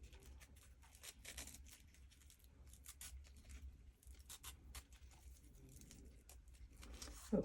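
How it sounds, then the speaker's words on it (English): Quiet snipping and rustling, like scissors cutting through ribbon, with soft crinkling handling noises throughout. "get our ribbon scissors out and just cut an angle."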